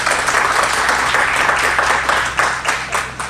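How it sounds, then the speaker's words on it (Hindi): Loud, dense applause from a workshop audience for a woman who has just finished speaking, continuous clapping from many people that thins out toward the end. "तो ज़ोरदार तालियां मैम के लिए।"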